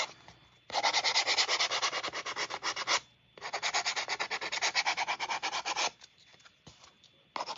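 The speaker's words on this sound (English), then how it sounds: "So I'm just going to go around the edges and just lightly sand." A small handheld sander lightly works over painted edges in two long bursts of rapid, even rasping strokes separated by short pauses, close and clear, with no talking.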